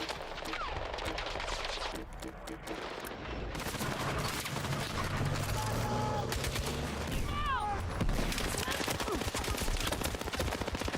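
Gunfire from shooting in a video game, continuous rapid bursts of shots crackling close and loud for the whole stretch, with brief game effects mixed in and a voice speaking now and then.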